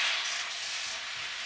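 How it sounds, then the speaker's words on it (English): Peppers and onions for fajitas sizzle in a hot pan, a steady bright hiss lasting throughout, fairly faint and with no voices. "you can hear that sizzle, huh? It sounds good."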